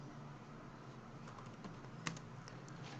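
Fast, light keystrokes on a computer keyboard, close and fairly quiet, run in a steady patter with one sharper tap near the end.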